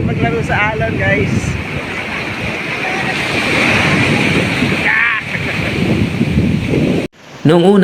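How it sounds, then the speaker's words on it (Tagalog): Surf rushes and breaks nearby at Sulok Beach in General Nakar, Quezon, with wind buffeting the microphone, while excited voices shout and laugh over the waves. "Ang sarap maglaro sa alon guys."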